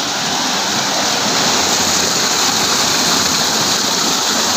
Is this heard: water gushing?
yes